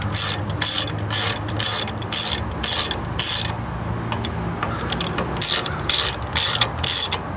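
A ratchet wrench clicks in quick bursts while torquing bolts on the final drive of a 2014 John Deere 2032R tractor, close and loud, with brief pauses between strokes and no talking.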